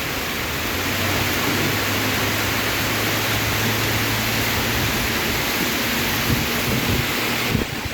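Heavy rain and strong wind batter a ship crew in the town of Tanjung Selor, a loud unbroken roar of hissing downpour and buffeting gusts that swamps the microphone, with a low engine-like hum beneath.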